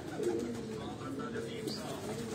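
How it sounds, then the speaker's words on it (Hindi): A parwazi flying-breed pigeon coos softly and low, its murmuring calls blending into a steady background hum, faint and close. "ये परवाजी कबूतर है"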